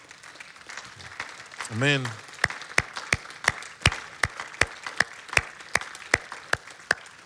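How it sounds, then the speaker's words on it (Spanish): Evenly spaced, sharp claps ring out in a steady beat from a church congregation during a Spanish-language worship service, with one voice briefly calling out near the start. "Dele un fuerte aplauso."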